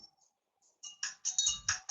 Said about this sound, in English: there's my phone going off